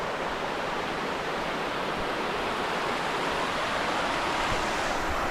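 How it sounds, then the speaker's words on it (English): Harper Creek Falls in Pisgah National Forest pours over rock with a steady, dense roar of rushing water, loud and close, with no voices. "here I am at the top of Harper Creek Falls"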